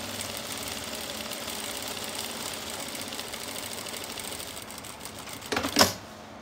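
A sewing machine stitches steadily along a zipper with the presser foot against the zipper teeth, a continuous even whirr that ends in a brief louder clatter and stop.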